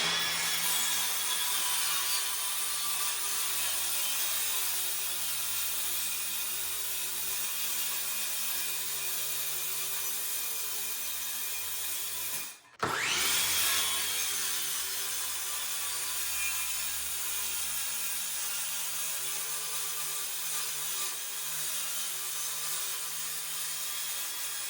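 A saw cuts steadily through wooden floor boards in one long, continuous, loud drone, close by, broken only by a single brief pause midway before the cut carries on; no talking.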